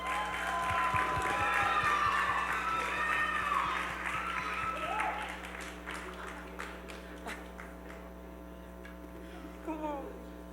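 An audience at a Haitian community concert applauds loudly, with dense clapping at first that gradually thins and fades, while voices and music carry on over it.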